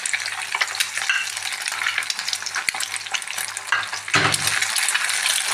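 Curry leaves and crushed black pepper fry hard in hot oil in a pan, a dense, steady crackling sizzle with a brief sharper spatter burst near the end, close and alone without voices.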